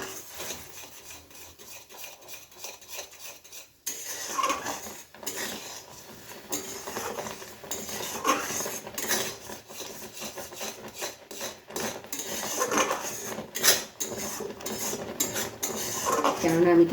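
Rice flour mixture being stirred in a pot with a utensil, close scraping and rubbing strokes that repeat irregularly and grow a little louder, with no talking.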